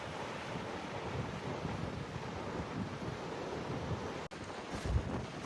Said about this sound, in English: this is Porthmeor Beach